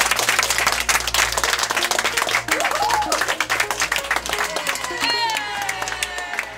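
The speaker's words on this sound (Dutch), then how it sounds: "mogen jullie heel hard gaan klappen" A crowd at a Dutch shop opening applauds loudly after a ribbon is torn, dense steady clapping filling the whole stretch with a few cheers and whistles rising near the end.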